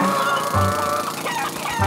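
Cartoon chickens in a Garfield episode cluck and squawk in a rapid, overlapping chorus of fowl calls, close and steady, with no talking.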